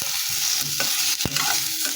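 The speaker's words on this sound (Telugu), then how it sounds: "కట్ చేసుకున్న ఉల్లిపాయలు ఉన్నాయి కదా! అవి కూడా వేసి వేయించుకుంటున్నాను." Chopped onions fry in oil and are stirred in a pan, giving a close, steady sizzle with a couple of sharp scraping strokes and no talking.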